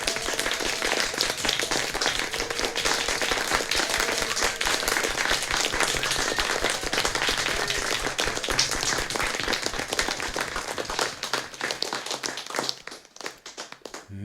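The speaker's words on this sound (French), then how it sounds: "nous commençons donc par une salve d'applaudissements pour nos soignants" Sustained clapping and applause for healthcare workers during an evening gathering, dense and rhythmic for most of the stretch, then thinning out to scattered claps before stopping.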